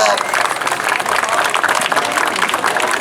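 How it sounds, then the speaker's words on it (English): Audience clapping for a performing bear at a state fair bear show, a steady burst of applause mixed with crowd noise and a voice speaking over it. "Let's give him a big round of applause."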